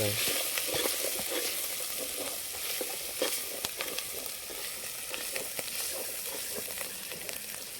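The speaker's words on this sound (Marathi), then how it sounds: "आता त्याला मस्तपैकी करपवून मग आपल्या मटणाची फोडणी हो" Mutton sizzles in a hot tempering pan, a loud continuous crackling fry with scattered pops and occasional stirring scrapes, close and alone without talk.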